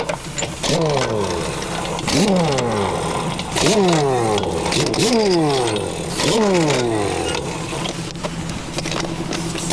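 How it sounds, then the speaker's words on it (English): An air impact wrench spins lug nuts off a truck trailer wheel in repeated rising and falling whirring bursts, loud and close, in a garage or roadside setting with no talking. "Now we can take the lug nuts all the way off with no issues"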